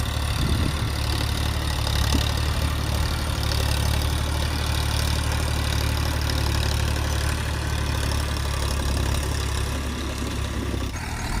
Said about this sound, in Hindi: अभी चलते हैं ट्रैक्टर के पास में, रविंदर भैया करेंगे स्टार्ट